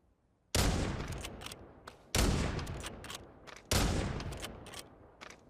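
Three loud rifle shots in the Forefront VR game, each a sharp broadband blast with a decaying tail, spaced about one and a half seconds apart, with the clack of the bolt being cycled between them.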